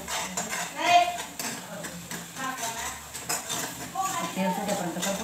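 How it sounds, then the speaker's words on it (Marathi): Spice masala with chilli and coriander powder being stir-fried in oil in a pan, heard as a soft sizzle under repeated clinks and scrapes of a spoon against metal, with a voice talking over it. "असा मसाला परतून घेऊ आपण छान। असं तेल सुटेपर्यंत परतून घ्यायचा।"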